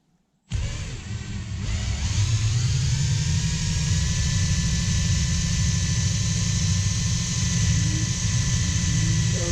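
A hoverboard hub motor converted into a wind generator spins up under test, kicking in abruptly and settling into a loud, steady whirring roar with a broad rushing tone that holds without a break to the end.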